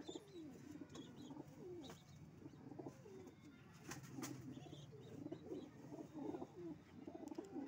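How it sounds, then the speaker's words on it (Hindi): A male Phoolsara pigeon gives soft, repeated low coos close by, with faint chirps and a brief wing flutter amid quiet background noise. "कबूतर है ये फुलसरा नर"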